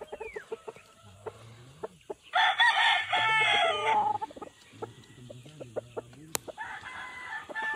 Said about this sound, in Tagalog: Maayos po yung mga manok dito.